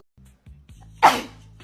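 One sharp, loud sneeze bursts out after a few soft, quick inhaling breaths building up to it, close and alone.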